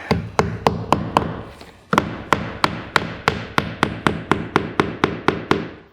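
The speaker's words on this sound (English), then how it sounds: "Put a final nail in." Nails being hammered into vinyl siding J-trim around a rough opening: a short run of sharp hammer strikes, a brief pause, then a long, steady, evenly spaced series of close, loud blows with no talking.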